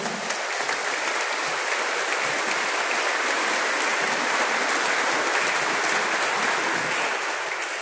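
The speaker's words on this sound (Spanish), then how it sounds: "Un gran aplauso" A church congregation applauds at a Mass celebrating a priest's 90th birthday, dense steady clapping holding for several seconds.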